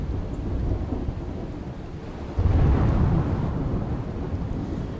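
Heavy monsoon rain pours down in Gujarat while thunder rolls through, swelling into a loud, deep rumble midway and then easing back into the steady hiss of rainfall.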